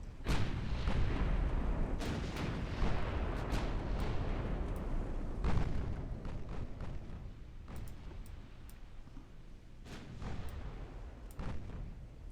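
Repeated booming torpedo-hit explosions from Ultimate Admiral: Dreadnoughts, the naval warfare game, rolling in irregularly over a rumbling battle backdrop, loud and heavy with several sharp bursts spaced across the stretch.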